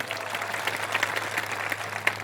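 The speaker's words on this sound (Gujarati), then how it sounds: "બધા માટે એકવાર જોરદાર તાળીઓ પાડી લઈએ આપણે" Applause from an audience at a political speech in Gujarat, a dense patter of claps at moderate level with occasional sharper peaks, continuing steadily without voices.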